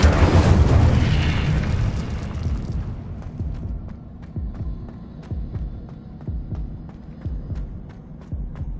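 Incendio fire spell cast in Hogwarts Legacy: a loud whooshing burst of flame that fades over a few seconds into a low throbbing hum with rhythmic soft booming pulses.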